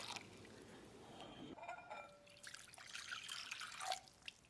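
Warm water poured into a bowl of bread dough mix with yeast for peanut butter bread, a soft close trickle and splash that grows brighter partway through, quiet and with no talking.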